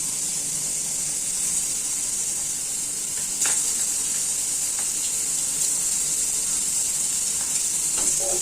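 Cabbage pakoda frying in hot oil makes a loud, continuous bright sizzle with occasional small pops and stirring sounds.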